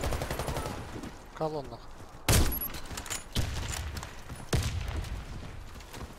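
Gunfire in the Warface shooter game, with sniper fire on a factory map: a few sharp, loud shots stand out over a steady din of battle noise while someone talks throughout.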